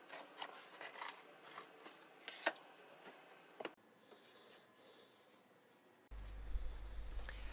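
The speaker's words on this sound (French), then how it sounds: "Mon ciseau contre la boîte, je coupe." Scissors cut into a cardboard box in short repeated snips and rasping strokes, close and quiet, followed by a low rumbling handling noise at the end.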